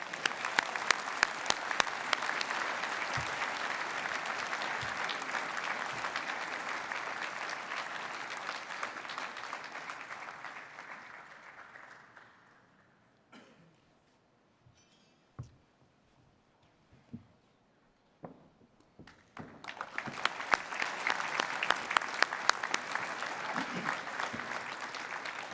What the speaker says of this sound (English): Let's give all of these winners a big round of applause.